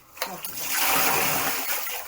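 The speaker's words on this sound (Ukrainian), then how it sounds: "Чекай, чекай, я злю трошки води." Water splashes and gushes out of a well in a steady broadband rush, loud and close, lasting about two seconds after a couple of sharp splashy onsets.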